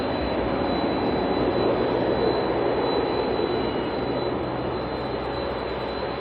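Turboprop airliners, an ATR and a Dash 8, departing from Auckland Airport, give a steady, loud broadband engine roar that holds evenly throughout with no pauses.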